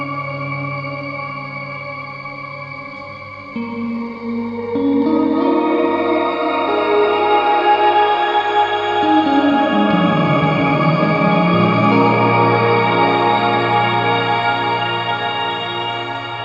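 Keeley Caverns V2 pedal set to shimmer reverb, turning guitar notes into a lush, continuous wash with octave-up sparkle and long echoing tails that swell and sustain throughout, with no talking.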